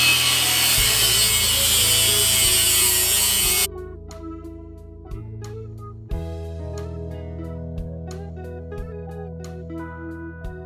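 Harsh, steady cutting noise grinds through a 1960s go-kart's metal frame for a few seconds, then stops, leaving a low hum with scattered clicks and knocks.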